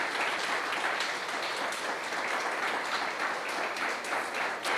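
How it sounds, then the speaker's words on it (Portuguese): Congregation applauding in a church, a dense, continuous crackle of many hands clapping at an even level throughout, with no talking over it. "Queridos, aplauda o Senhor aí no seu lugar."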